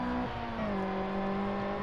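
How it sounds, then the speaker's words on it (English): Abarth 131 rally car engine straining under hard driving on a Monte Carlo stage in the Seb Loeb Rally Evo video game, a continuous close engine drone with pitch sliding down as revs drop, no voices. "hopefully it's better so you can hear the straining of that Abarth engine through as I just beat on this car."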